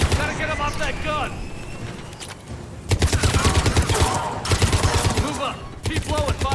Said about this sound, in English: Enemy on the mounted gun!